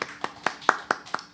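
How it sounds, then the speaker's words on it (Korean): A church congregation claps in worship during a Korean Sunday service, heard as six evenly spaced, crisp claps that sound fairly close and not like a large crowd. "주님께 영광의 박수 올려드리겠습니다."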